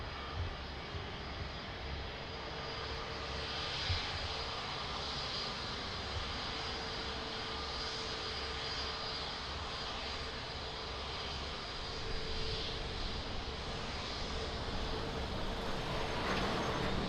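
Airliner touching down at Lisbon Airport, a steady, loud broadband engine roar with whine held throughout, swelling slightly near the end, no voices.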